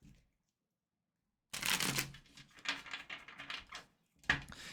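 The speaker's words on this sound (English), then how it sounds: "That means shuffle." A new tarot card deck being shuffled, quick riffling and slapping bursts of cards after a silent gap, with a sharp snap near the end.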